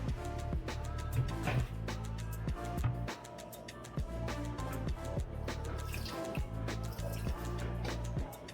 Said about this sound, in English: We like to wash our meat, so we're going to use some vinegar and some lemon.